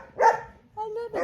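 Golden doodle dog named Paris, sitting in a person's lap, gives a couple of short close vocal sounds, a bark-like yip followed by a drawn-out whine, each lasting a fraction of a second.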